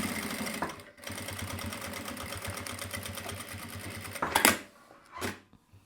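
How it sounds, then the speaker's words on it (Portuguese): A sewing machine stitches a seam with right sides of the fabric together, a close, fast mechanical stitching rhythm broken by brief pauses, followed by a couple of short bursts near the end. "E vou fechar aqui um pezinho de máquina, ó."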